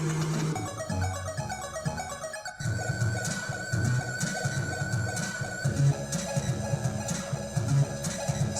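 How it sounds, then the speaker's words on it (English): Busy Atari ST chiptune music with a faint, high chirping sound repeating in the background among the bleepy synth tones, after a brief drop in the middle. "The little chirp noise you hear in the background,"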